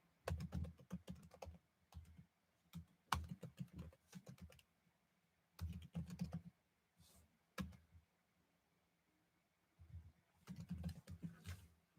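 Close, fast computer-keyboard typing in clustered bursts of clicks, separated by short pauses, with no voices.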